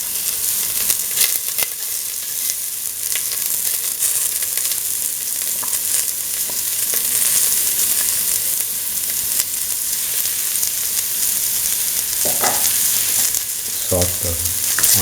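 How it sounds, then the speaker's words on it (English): Onion pieces and fennel seeds sauté in a hot pan with oil, giving a steady bright sizzle and a few soft stirring knocks near the end. "Saute the onion pieces in the fennel seeds until the onions take the pinkish color."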